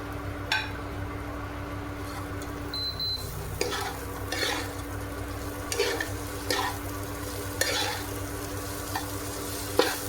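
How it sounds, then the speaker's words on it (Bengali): Sliced onions, bell pepper and capsicum sauté in a little oil in a wok, a soft steady sizzle broken by a few stirring scrapes and light clinks of a spatula, close and unvoiced. "আর কড়াইয়ে যেটুকু আমার তেল আছে এইটুকু তেলের মধ্যেই আমার এইভাবে কেটে রাখা সমস্ত পেঁয়াজ, বেল পেপার, ক্যাপসিকাম এগুলো সব দিয়ে আমি হালকা সতে করে নেব"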